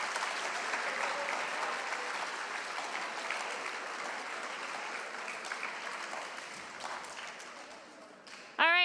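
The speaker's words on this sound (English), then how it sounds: "let's give everybody one big round of applause." Steady applause from an audience at a grade 10 awards ceremony fills the space, gradually tapering, before a voice begins speaking at the very end.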